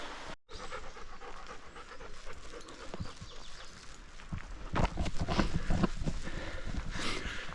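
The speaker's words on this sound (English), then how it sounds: "If it sounds like I'm breathing heavily, it's because I am." Heavy, rhythmic panting breaths close to the mic while climbing uphill in woodland, steady and labored, with footsteps and rustling underneath.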